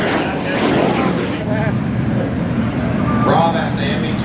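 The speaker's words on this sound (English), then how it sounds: "The Me-262, first operational jet in the European field." A Messerschmitt Me 262 jet aircraft flies past with a loud, steady roar throughout, and someone talks over the engine noise.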